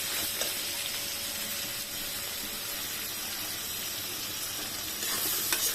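Prawns frying in a pan with turmeric powder give off a steady, dense sizzle, close and fairly loud, with occasional light scraping of a spatula stirring through and no voices.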